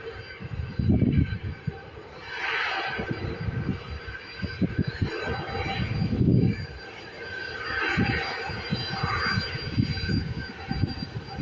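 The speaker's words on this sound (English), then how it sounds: "we've got this Boeing 737 operated by Ryanair FR4300 heading over to Budapest, taxiing on by" A Ryanair Boeing 737 taxis past at an airport, its jet engines giving a steady, broad rumble that swells and fades as it rolls by, with no talking.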